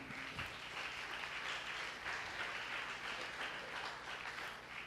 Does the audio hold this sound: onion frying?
no